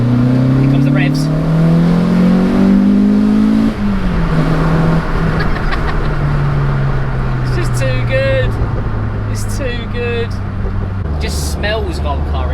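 Renault Clio 172 with a naturally aspirated engine revving loudly from inside the car, the note rising in steady sweeps then dropping and settling into a lower drone, with brief talk over it.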